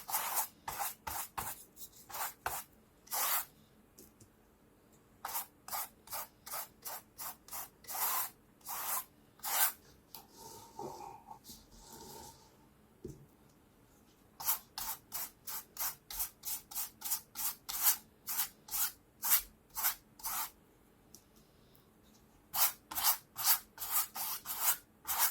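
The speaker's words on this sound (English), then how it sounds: "I'm only applying Mod Podge to the top." A brush strokes gloss Mod Podge across the top of a canvas, giving quick rhythmic swishes in bursts, close and fairly quiet, with a brief pause midway.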